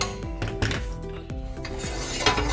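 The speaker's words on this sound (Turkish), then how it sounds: "İçine yağını koydum tenceremi, ocağa ekledim." A cooking pot with oil clatters onto a kitchen stove, metal knocking and clinking against the burner grate with several close, sharp bangs and scrapes while making sigara böreği.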